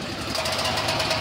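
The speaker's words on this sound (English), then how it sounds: "generator running" Portable generator running at an RV salvage setup, a loud, steady engine rumble with a fast knocking pulse, close by and continuous through the short stretch.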